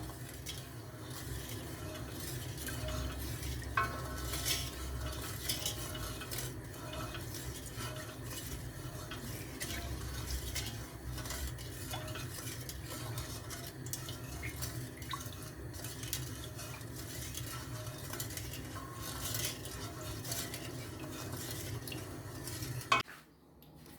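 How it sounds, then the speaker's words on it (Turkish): Fig jam being stirred in a pot as it cooks down, a steady, continuous scraping and bubbling texture that stays even and fairly quiet for the whole stretch, with no talking. "Böyle karıştıracağım. Bu reçel e, kıvamına gelinceye kadar pişireceğim."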